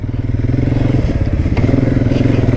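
A Kymco Maxxer 450i ATV drives in four-wheel drive over rough off-road terrain, its engine a loud, close, rhythmically pulsing thump with occasional clatter from the ground.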